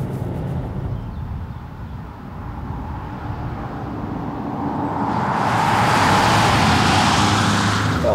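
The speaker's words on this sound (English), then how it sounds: "I get just enough of an engine note to make me think, ooh, that's a little exciting" Engine and road noise from inside a 2019 Alfa Romeo Stelvio driving on country roads, a continuous low hum that swells as the car accelerates, with rising tire and wind roar and no talk.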